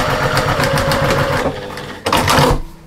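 Sewing machine running a short backstitch while lining an armchair sewing caddy, a steady fast mechanical whir that stops, pauses briefly, then resumes for a short burst up close.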